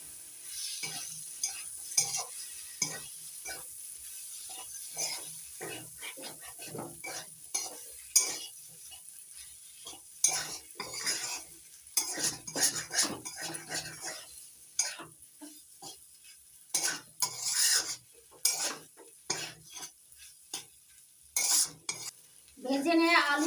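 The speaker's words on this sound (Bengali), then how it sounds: "এবার নাড়াচাড়া করে মশলার সঙ্গে ভালো করে কষিয়ে নেব।" Fried potatoes and beans are turned through a spice paste in a hot pan, with close, uneven scraping and clattering strokes over a light sizzle and no one speaking.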